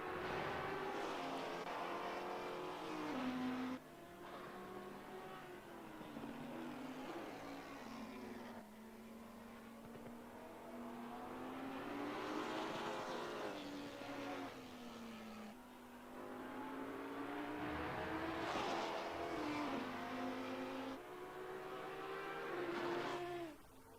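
Race cars, including a Maserati alongside GT4 cars, pass on a track with loud engines rising and falling in pitch as they accelerate, shift and sweep by in several successive waves.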